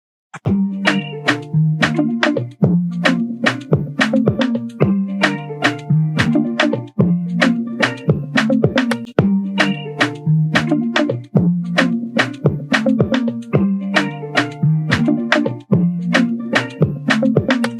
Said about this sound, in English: I found this guitar loop on Looperman again, and I went ahead and added it to it.